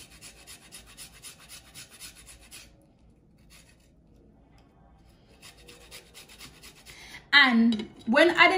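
Fresh ginger is scraped against a grater in a kitchen, a close, steady rasping in two bursts separated by a quiet pause, followed by someone speaking at the end.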